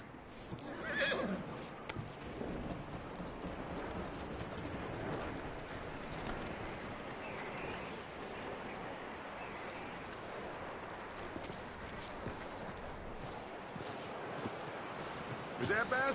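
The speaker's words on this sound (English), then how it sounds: "That looks like a decent horse." A horse neighs and whinnies in the Red Dead Redemption 2 video game, with clip-clopping hooves and game ambience underneath and someone talking over it.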